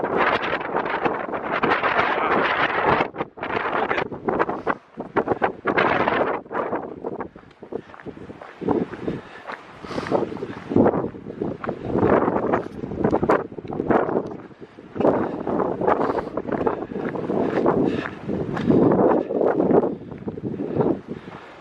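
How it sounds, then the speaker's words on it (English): Strong gusting wind on a hiking trail in Torres del Paine, Patagonia, Chile, buffets the microphone in loud, irregular roaring surges and brief lulls for the whole stretch, with no talking. "the wind is so strong right now."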